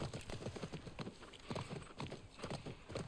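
Rhythmic clip-clop of a horse's hooves at a steady trot in The Last of Us Part I video game, fairly close and continuous throughout.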